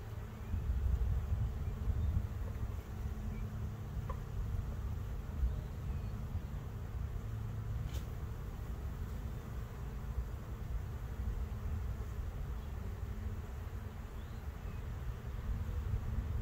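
Honey bees buzzing steadily around an open hive during a colony split, a continuous low droning hum with no talking.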